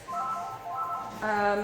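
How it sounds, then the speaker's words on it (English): A mobile phone rings indoors with short, repeated tonal bursts, moderately faint, during a makeup session. "That's my phone ringing, but I'm not going to answer it."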